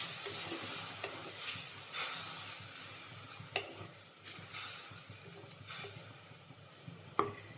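Water poured into a hot pan of ghee while making green peas masala sets off bursts of hissing sizzle that swell and fade several times over a low steady background, with no talking.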